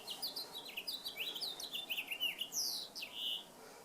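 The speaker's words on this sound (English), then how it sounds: "the finch's song is particularly cheerful and pleasing to the humans who create its habitat" House finch singing a quick, cheerful warbling song of rapid tweets and slurred chirps, fairly clear over a soft background hiss.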